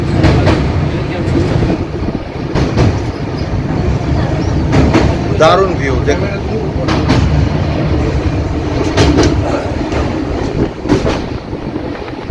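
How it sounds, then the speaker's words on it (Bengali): Tourist express train with a vista dome coach crossing the Teesta bridge, a steady loud rumble of wheels and carriage noise throughout, with a few sharp clanks and wind buffeting, while a person talks over it. "আমরা এখন তিস্তা ব্রিজ ক্রস করছি।"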